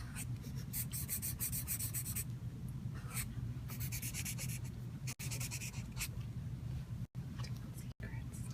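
A pencil scratches and rubs quickly across paper as a storyboard artist sketches panels at speed, in close continuous strokes with brief pauses, over a low background rumble.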